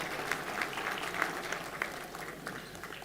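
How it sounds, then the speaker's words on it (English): An audience at a gala dinner awards night applauds the band, with dense, steady clapping from a large crowd that swells in short peaks and holds throughout. "Can we give the band a huge round of applause, please?"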